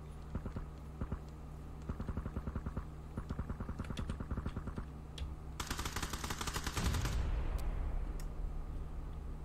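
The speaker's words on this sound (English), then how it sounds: "Somebody's got a silencer. It's quite a heavy sounding gun as well." Heavy automatic gunfire in the PUBG video game crackles in rapid repeated bursts, fairly distant and steady, followed by a louder, harsher burst near the end; no talking.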